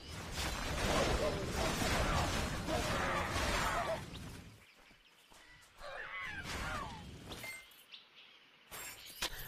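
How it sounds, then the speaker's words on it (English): Vultures in the video game Titan Quest give shrill, chattering, monkey-like calls amid crashing and shattering game effects, loud at first and then fading into sparser cries. "I swear they sound like monkeys, these birds."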